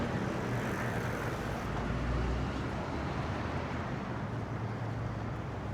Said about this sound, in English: The traffic is just horrendous. It's noisy around here.